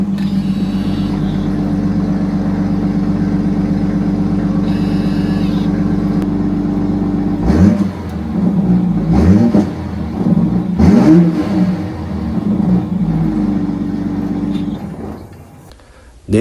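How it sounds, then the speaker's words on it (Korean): A BMW X3 M50 with its mild-hybrid turbo engine idles with a steady low drone, then revs sharply several times, deep exhaust bursts rising and falling close to the microphone before settling back. "50이라는 네이밍 때문에 그런지 배기음도 확실히 많이 변경이 됐습니다"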